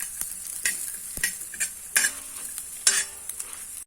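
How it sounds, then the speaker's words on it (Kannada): Cumin and fenugreek dry-roast together in a pan for a Mangalorean crab and spinach curry: soft crackling sizzle punctuated by several sharp scraping stirs of a spatula, close up and quiet, with no voices. "ಜೀರಿಗೆ ಹಾಗೂ ಮೆಂತೆ, ಇವನ್ನೆಲ್ಲ ಒಟ್ಟಿಗೆ ಹಾಕಿ ಹುರಿಯುವ ಒಂದ್ಸರಿ"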